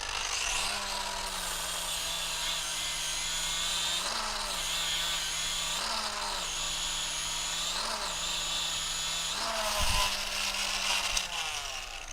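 An abrasive wheel on an angle grinder slowed to about 9,000–11,000 RPM grinds a weld seam off stainless steel, a steady high whine with periodic dips in pitch as pressure changes, close and continuous, with a brief clatter near the end.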